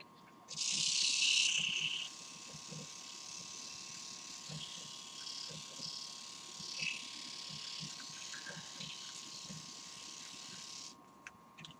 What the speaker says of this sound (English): I'm gonna shave some of it.